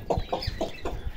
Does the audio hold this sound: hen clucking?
yes